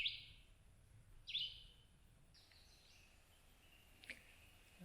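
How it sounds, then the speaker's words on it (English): A few bright bird chirps in woods, one near the start and one just after, then a faint distant call, over a very quiet outdoor background on a trail in Raven Rock State Park. "Listen to the wonderful birds chirping."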